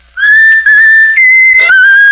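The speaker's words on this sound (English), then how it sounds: "How about whistling the tune that you like best of all?" Raffles, a talking mynah bird, whistles a tune in loud, clear, pure notes that step between pitches over about two seconds, close up and alone.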